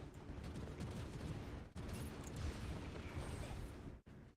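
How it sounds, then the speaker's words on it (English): Dense, continuous barrage of explosions and gunfire from a video game, loud and sustained throughout with a brief break near the end, no talk over it. "Wow, there's a lot of explosions."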